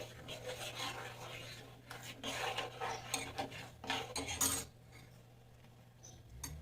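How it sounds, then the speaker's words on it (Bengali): A spoon scrapes and stirs against a cooking pot as cardamom and sugar are mixed into milk, with irregular rasping strokes close up that fall quiet toward the end, amid faint background noise. "এটা ভালো করে দুধটার সঙ্গে মিশিয়ে নিতে হবে।"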